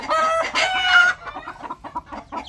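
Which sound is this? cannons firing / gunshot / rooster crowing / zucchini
rooster crowing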